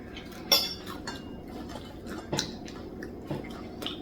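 Someone eats crispy fried lumpia near the microphone, making a few sharp crunchy bites and faint chewing, with cutlery and plates clinking quietly in between.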